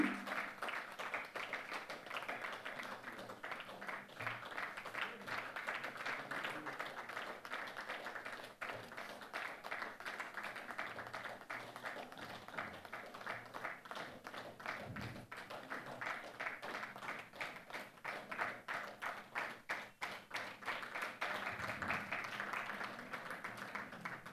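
An audience applauds at an honouring ceremony for senior music teachers, a steady, dense wash of many hands clapping that carries on for over twenty seconds at an even level, with no voices standing out.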